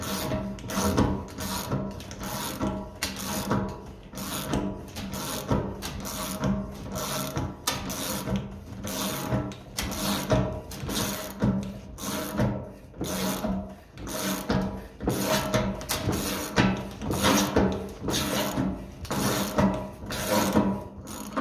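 Threads in the fuel tank of a 1957 Ferguson FE35 TVO tractor are cleaned with a tool, making close, rhythmic rasping and grinding strokes repeated steadily throughout.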